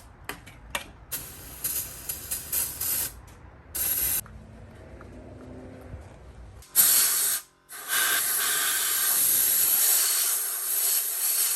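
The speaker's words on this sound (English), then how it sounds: "we're gonna clean this down really well with some brake cleaner" Brake cleaner sprayed onto the engine of a 1984 Porsche 944: several short clicking spurts, then a long loud hiss that briefly cuts out and resumes as a sustained spray.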